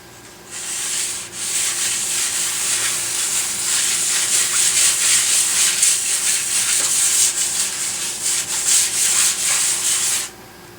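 Hand sanding of a wooden electric guitar body with sandpaper over a block: a steady, close scratchy rubbing that runs for about nine seconds with a slight back-and-forth texture, no talking.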